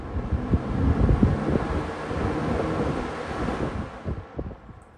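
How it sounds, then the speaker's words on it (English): A vintage Kmart Lakewood box fan runs at full power, giving a steady, loud, broadband rush of moving air with a low rumble that eases slightly at the very end. "That is one powerful fan."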